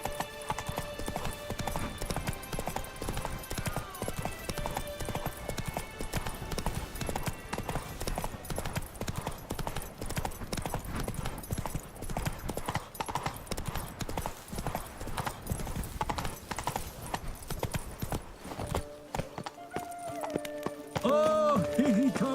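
Hooves of a galloping horse in The Witcher 3 drum a steady, continuous clip-clop rhythm for the whole stretch, with game music and ambient sound underneath and a brief musical flourish near the end.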